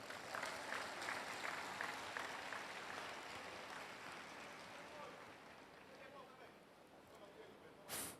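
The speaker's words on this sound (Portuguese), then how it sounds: "Aplauda essa palavra." A church congregation gathered for a Catholic preaching event in Angola applauds, a dense wash of clapping that runs steadily and then slowly thins, with a brief louder burst near the end.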